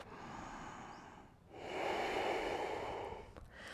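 Deep yoga breathing during a Vinyasa flow practice: a soft airy inhale, a brief pause, then a longer, fuller exhale rushing out, close to the listener and quiet, with no speech.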